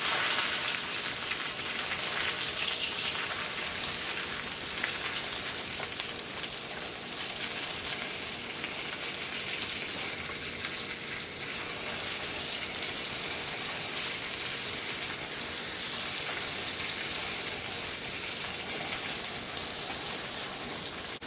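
A burger fries in a hot pan, giving a steady, dense sizzle and crackle of grease that runs unbroken and fairly loud for the whole stretch, with no voices over it.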